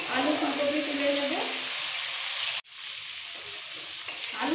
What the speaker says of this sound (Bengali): খুব বেশি ভাজবো না, হালকা একটু কালার এসে গেলে আলু ফুলকপি তুলে নেব